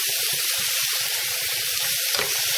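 Ground meat with onions being stirred in a hot frying pan for a savory pie, a dense close sizzle broken by a quick run of scraping, rhythmic spatula strokes, with no voices.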